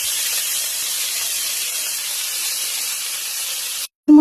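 Leafy greens hit a hot pan in a home kitchen and give off a loud, steady broadband hiss that holds for about four seconds, then cuts off abruptly.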